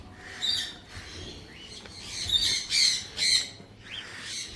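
A large bird at a bird park in Yercaud gives several harsh, loud squawks in bursts, with quieter chirps and background ambience between them.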